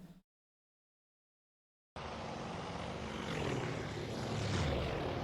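After a short gap of silence, a droning roar of carrier aircraft propeller engines rises and grows steadily louder in the naval strategy game Task Force Admiral, with no talk over it.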